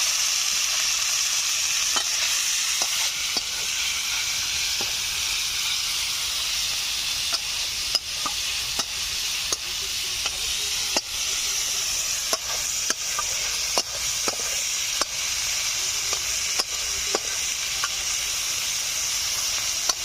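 Green chili, ginger-garlic paste and chopped tomato fry over reddened onions for a rohu fish curry, a steady close sizzle and hiss running throughout, with frequent sharp spatula scrapes and taps against the pan.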